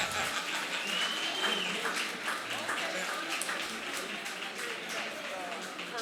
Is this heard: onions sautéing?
no